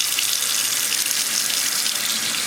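Hot water streams steadily from a tap over a color-changing makeup sponge, a close, continuous hiss and splash with no talking.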